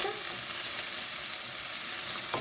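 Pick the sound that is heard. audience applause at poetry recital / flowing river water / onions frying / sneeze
onions frying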